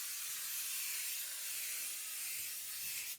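An aerosol can of basting spray sends a steady, close, breathy hiss over quilt layers for several seconds without pause, with no talking.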